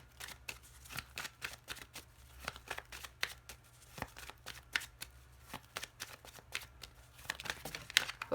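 Lenormand cards being cut and shuffled by hand: a steady run of quiet riffling and flicking card sounds, close and alone, with no talking.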